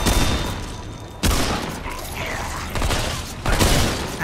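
Gunfire in Remnant 2 during a co-op boss and archer fight: a few sharp, loud shots and bursts stand out over dense game noise and mechanical clatter, with occasional voices.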